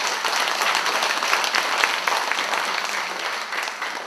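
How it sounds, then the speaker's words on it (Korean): An audience claps steadily after a song at a commemorative lecture event, a dense, sustained wash of applause heard alone throughout. "다시 한번 큰 박수 부탁드립니다"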